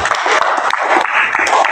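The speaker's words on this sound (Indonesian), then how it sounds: "Kita tepuk tangan kepada ketua kelas." A classroom full of students clapping for their class leader, a brief burst of dense, lively applause close by, with a few voices mixed in.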